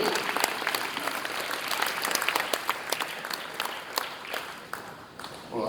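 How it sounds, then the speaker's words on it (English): Applause from an audience at a performance poetry event with a live band, fairly quiet, dense clapping spread evenly across the room and thinning slightly toward the end. "Can we have another fabulous round of applause"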